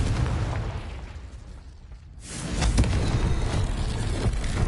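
A Confringo blasting spell from the Hogwarts Legacy video game erupts partway through as a loud, full-bodied explosion, a deep boom that swells in after a brief lull and rumbles on with sustained roar.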